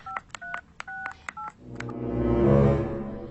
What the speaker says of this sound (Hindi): हाँ हाँ, घर में फोन कर देता हूँ।